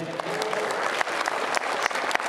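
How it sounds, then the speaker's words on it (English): An audience at a Rhode Island comic con claps in a sustained round of applause, a thick, even patter of many hands close by that fills the whole stretch. "Round of applause for him, everybody"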